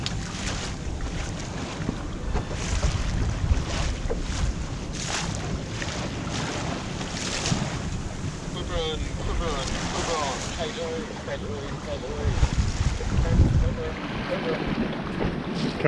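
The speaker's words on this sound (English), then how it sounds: "some big waves on this reef." Big waves crash and surge nearby on a reef at Maitland Bay, heard from a dinghy, amid steady wind buffeting the microphone, with a few brief voices in the background.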